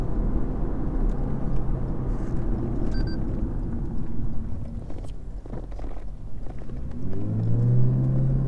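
A 2014 Lexus IS300h hybrid accelerates hard in sports mode with traction control off, heard from inside the cabin as a steady loud rumble of road and engine noise with a rising tone near the end.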